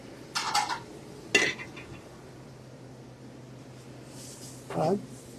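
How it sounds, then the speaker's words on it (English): A few brief metallic clanks and scrapes of a frying pan being moved in a kitchen, spaced apart with quiet gaps between, close by. "Let me start heat up my frying pan."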